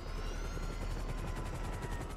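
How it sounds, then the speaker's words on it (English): Helicopter in a driving-and-shooting video game, its rotor chopping in a steady, loud, close throb that fills the whole moment with no talk over it. "Bye, helicopter."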